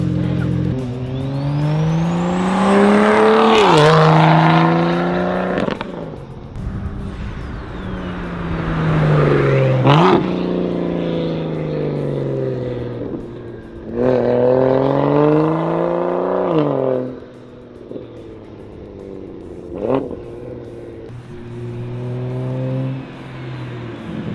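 A big single-turbo BMW 335i with an N55 engine at 24 PSI revs hard through repeated rising accelerations and gear changes, growing loud as it draws near, with brief quieter gaps between pulls.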